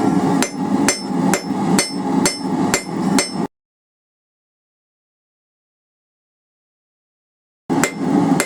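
Hammer forging metal on an anvil while making a coal fire rake: a regular series of sharp ringing strikes, about two per second, then a long silent gap before the blows resume.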